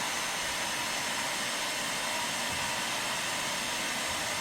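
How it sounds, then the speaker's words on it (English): A hair dryer blowing continuously, a steady loud whoosh of air with an even motor hum and no other sounds. "This is a hair dryer"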